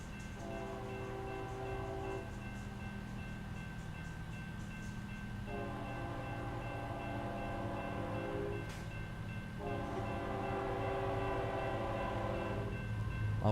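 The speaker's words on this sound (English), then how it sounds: "Oh, we got a train coming." A train rolls past a level crossing in the American Truck Simulator game, its horn sounding in long steady blasts repeated three times over a constant low rumble of wheels and engine.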